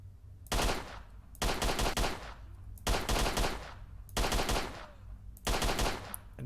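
Automatic gunfire in the video game STALKER: Shadow of Chernobyl, five loud bursts of rapid shots in a steady rhythm, separated by short gaps, with no talk over them.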